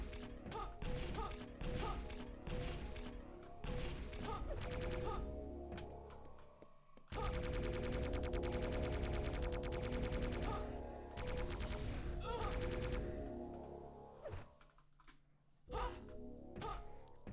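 Rockets fire in Quake III DeFRaG, a fast rhythmic run of sharp blasts and mechanical clatter during a trick-jump race, heard faint and distant with brief lulls between dense stretches.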